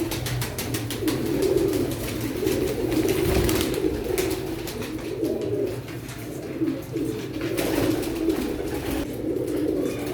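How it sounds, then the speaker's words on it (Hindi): Sialkoti pigeons coo in soft, repeated rolling calls close by, overlapping in a steady throaty murmur throughout. "एक ये सियालकोटी कबूतर है"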